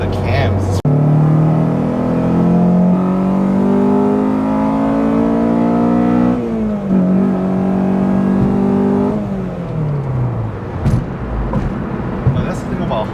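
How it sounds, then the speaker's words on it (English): A car engine revs hard through the gears, pitch climbing steadily then dropping at each shift, loud and close from inside the cabin, with people talking over it. "Man, that VTEC switchover is so aggressive."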